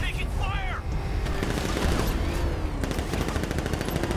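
Rapid bursts of gunfire crackle in Batman Arkham Knight, several volleys overlapping into a dense fusillade. Other game sounds sit underneath, and a voice speaks briefly.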